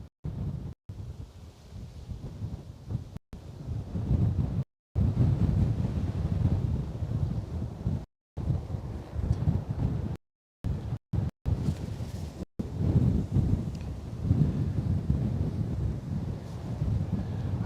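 Strong crosswind buffeting a microphone at an airport, a dense low rumble that gusts and surges with brief dropouts, loud and continuous with no talk.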